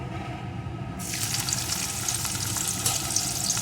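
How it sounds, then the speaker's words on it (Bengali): Chopped onion goes into hot oil with black cumin, and a bright, crackling sizzle jumps up at once and carries on steadily up close, with no talk. "এখন এর ভিতরে আমি দিয়ে দেবো একটা পেঁয়াজ কুচি"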